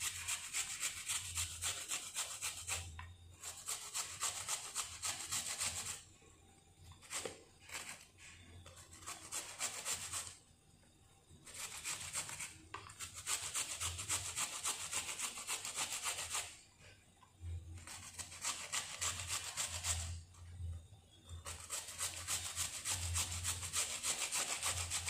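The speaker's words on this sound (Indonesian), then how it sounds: "Kita parut aja biar cepat." Cucumber grated by hand on a kitchen grater, a steady close rasping scrape in fast back-and-forth strokes, continuing in long bursts with short pauses between, without talk.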